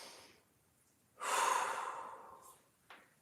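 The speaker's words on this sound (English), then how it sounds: "One more big breath." One long, deep inhale through the mouth during a standing hip and pelvic mobility exercise, held briefly while balancing at a wall, then a short puff at the end; close and fairly soft, no speech.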